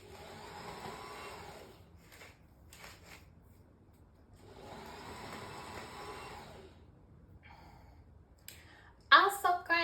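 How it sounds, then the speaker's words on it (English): Salt grinder grinding salt while baking sausage rolls, two soft sustained grinding bursts with short rattly clicks between them, close and fairly quiet, with a louder clatter at the end. "Our salt grinder is very peculiar with the peculiar weather. It doesn't really come out very much."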